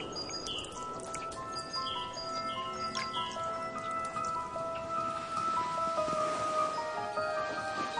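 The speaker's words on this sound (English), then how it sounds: "Snow from heavy skies, but life-giving rain." Steady spring rain patters through a forest, a dense wash of drops heard throughout while small birds chirp and call intermittently above it.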